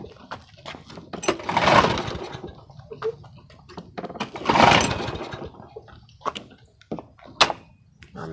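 A modified Briggs & Stratton small engine sputters through start attempts with choke, surging loudly in two bursts and trailing off between them, with irregular knocks, pops and clatter around it.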